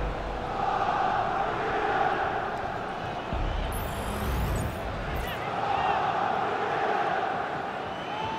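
Stadium crowd in an EA FC 24 football match, AC Milan versus Napoli, producing a broad sustained roar with swelling cheers and chants, with match commentary spoken over it.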